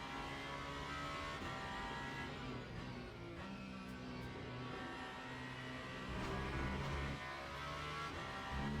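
GT race cars drone and rev together in the racing game Le Mans Ultimate, a dense, continuous engine roar holding steady throughout and swelling slightly louder toward the end.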